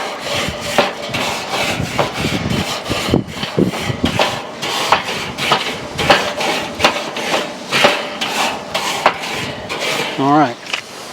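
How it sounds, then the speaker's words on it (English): Grill grate on an S N S charcoal grill being scraped with a brush, repeated loud rasping strokes in an uneven back-and-forth rhythm, close up and with no talking. "I'll go ahead and give this a scrape."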